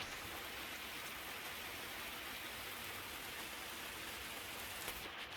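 Rain falling outdoors during an archery ibex hunt, a faint, steady, even hiss that continues without a break and has no voices over it.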